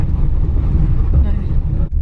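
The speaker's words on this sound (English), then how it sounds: "Bubs, I'm flooring the car." A car engine being floored up a steep road, a loud low-pitched roar with wind buffeting the microphone, holding steady before cutting off abruptly near the end.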